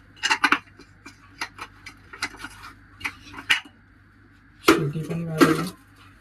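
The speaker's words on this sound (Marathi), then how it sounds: "शिटीला पण व्यवस्थित घासायचं." A pressure cooker's metal whistle is scrubbed by hand, giving a string of light clinks and taps. Near the end comes a louder burst of close rubbing and scraping.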